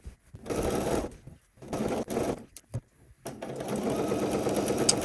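A sewing machine stitches nylon fabric in loud, close bursts of rapid mechanical whirring, stopping and starting several times with brief pauses between runs.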